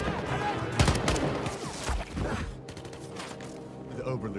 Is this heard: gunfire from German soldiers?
yes